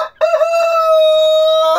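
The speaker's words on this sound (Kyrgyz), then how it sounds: "Алып келген корозум мынакей." A rooster gives one loud, close crow, a long sustained call that fills almost the whole moment.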